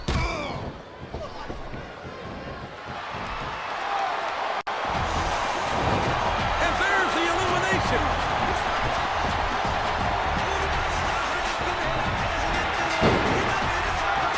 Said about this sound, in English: Superstars are getting some feedback from the crowd